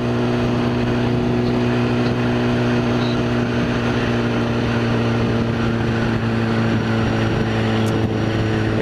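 BMW S1000RR motorcycle engine on a ride, a loud, steady droning hum with buffeting wind noise throughout, heard alone with no talk.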